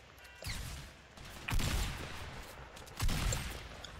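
Three sharp gunshots in Fortnite ring out about a second apart, each with a brief echoing tail, fairly quiet with no talking.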